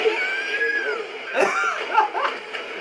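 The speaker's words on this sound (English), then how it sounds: "I can't get over that scream that she does." Alisa, a female fighter in the video game Tekken 7, lets out high, strained screams and cries over in-game fight sounds, several short vocal bursts rising and falling across the moment.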